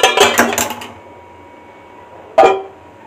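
Cooked, slightly cooled rice being mixed in a pan for restaurant-style Chinese fried rice: a quick run of sharp metallic scrapes and clinks, then a pause and one more clattering burst, close and fairly loud with no talking.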